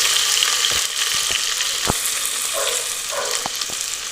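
Ginger-garlic paste fries in hot oil with a steady, bright hiss, broken by a few sharp clinks and scrapes of a spoon against the pan.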